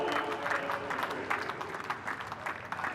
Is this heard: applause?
yes